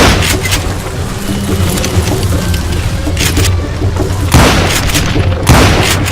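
Gunfire in the Western shooter Call of Juarez Gunslinger: loud booming shots and a few sharp reports over a dense, noisy game backdrop, with some shouted voices.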